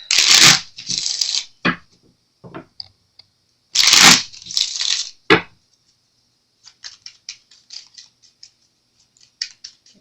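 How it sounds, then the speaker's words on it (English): Quick bursts of tarot cards being shuffled and riffled, close up, followed by softer scattered taps and clicks of cards being handled. "Get these shuffled real quick."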